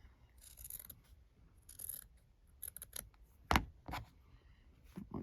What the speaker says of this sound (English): Once I cut that little corner there.